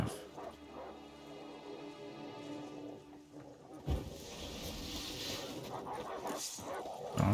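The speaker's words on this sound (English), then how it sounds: "dogs." Dogs barking and whimpering in The Witcher 3: Wild Hunt, with yips and low growls running steadily through the clip under game ambience, swelling louder near the end.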